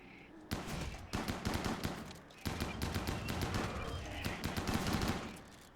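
Rapid bursts of gunfire rattle at a Scyther in the colony game RimWorld, loud and close, in two long volleys split by a short pause, the shots dense and overlapping like automatic fire.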